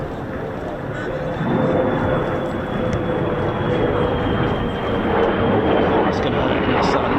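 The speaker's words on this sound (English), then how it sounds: "Here they come. Point Charlie, here we go. Our last F-35s of the day." F-35 fighter jets fly at RAF Lakenheath with a loud, sustained jet-engine roar and a thin whine on top, building a little as they approach, while someone talks over the noise.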